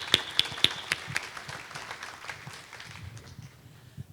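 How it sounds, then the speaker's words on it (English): Audience applause welcoming ambassadors at a diplomats' session of a peace summit: a few sharp, distinct claps up front, settling into a softer, scattered patter of hands that thins out toward the end. "Please join me in a round of applause to welcome them."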